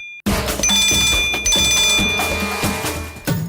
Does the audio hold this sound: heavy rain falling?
no